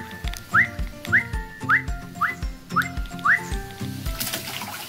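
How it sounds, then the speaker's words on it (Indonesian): A person whistles a repeated rising note six times in a steady rhythm, each whistle answered by bleating and grunting calls from crocodiles close by at a safari park. "Saya mau siul dulu. Mau bersiul nih."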